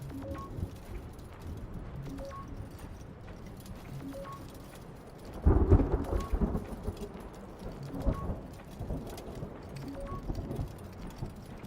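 A thunderstorm on Ganymede in the game Return to Grace: steady rain hiss under a low rumble of thunder that swells midway, with faint recurring tones pulsing in the background.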